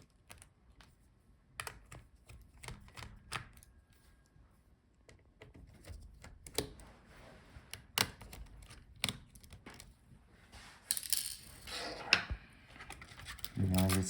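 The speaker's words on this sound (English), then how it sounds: "now let's take out all the screws for the motherboard." A small screwdriver works the motherboard screws out of a Dell Inspiron 16 7630 laptop, giving scattered close ticks and ratcheting clicks that grow busier toward the end, with occasional faint handling noise.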